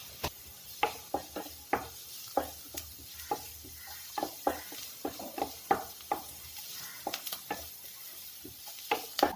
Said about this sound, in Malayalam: ഇനി നന്നായി നമുക്ക് ആ സവോള ഒന്ന് വഴറ്റിയെടുക്കാം.